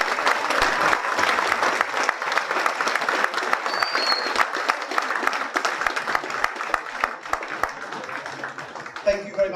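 Sustained applause from the audience at a public town meeting about a third river crossing in Lowestoft, a dense, loud, even wash of clapping that continues for several seconds and tapers slightly toward the end.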